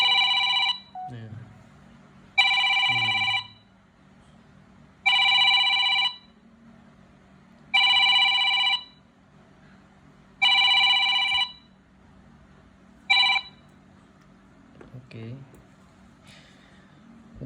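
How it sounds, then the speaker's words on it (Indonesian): A lost Android phone rings remotely while set to silent mode, its harmonic ringtone repeating in five loud bursts of about a second each with short gaps, then a brief sixth burst, over a low steady background hum. "langsung saja kita putar suara ponsel tersebut"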